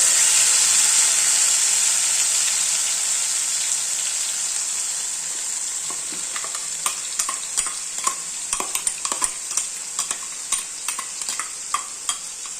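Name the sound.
spice paste frying in a pan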